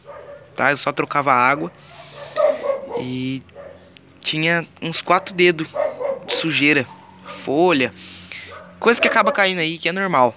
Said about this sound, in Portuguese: só começar a gravar que os cachorros começam a latir